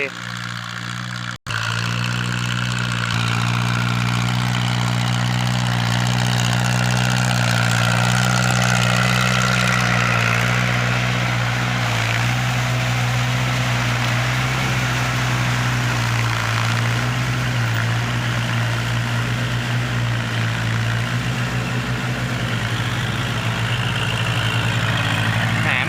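A steady, low diesel farm tractor engine idles nearby with a constant throbbing rumble, running continuously and loud throughout.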